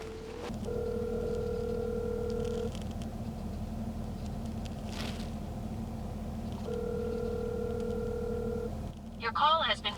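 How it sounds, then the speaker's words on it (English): A telephone ringback tone on an outgoing call, two long steady rings repeated over a low background hum, followed by a brief burst of other sound at the end. "I'm gonna try this phone number that she inputted."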